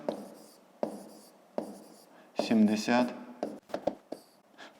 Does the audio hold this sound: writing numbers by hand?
yes